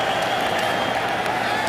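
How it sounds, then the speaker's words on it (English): A preseason NFL football stadium crowd roars loudly as the Rams play the Titans, a dense, steady wall of cheering and noise with no gaps. "Crowd gets loud."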